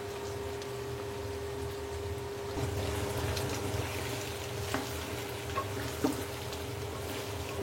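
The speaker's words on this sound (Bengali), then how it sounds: "সো মরিচ দেওয়ার পরে মোটামুটি 5 মিনিট এটাকে কষাইলো" Meat stir-fries in a pan after dried chili powder goes in, giving a steady close sizzle with occasional clinks and scrapes from stirring, with no talking.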